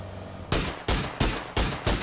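Gunfire in a shooter video game: five sharp, loud shots fired at roughly even intervals, each ending in a brief decaying tail.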